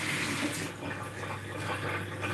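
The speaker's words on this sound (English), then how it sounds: "that's your tap water getting filtered by the major high street brand" Tap water runs steadily through a Brita Maxtra filter cartridge, a soft continuous pouring and trickling hiss heard close up and alone, with no pauses across the short stretch.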